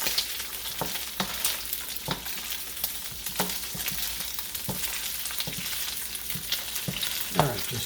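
Curry shrimp brown in a stir-fry pan with a continuous crackling sizzle, broken by repeated sharp clatters of stirring at irregular intervals, close and fairly loud, with no talking.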